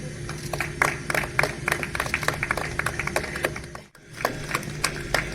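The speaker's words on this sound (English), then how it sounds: "Please give a huge round of applause, guys." Audience at a National Voters Day award ceremony in India clapping, scattered distinct hand claps at moderate distance over a low hum, with a brief dropout partway through before the clapping resumes.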